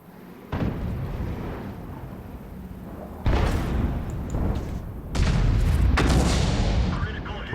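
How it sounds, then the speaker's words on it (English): Tank cannon shots fired at an E100 tank in a video game, three heavy booming blasts spaced a couple of seconds apart, each with a long rumbling tail, while a voice talks faintly. "Let me just shoot this E100 here."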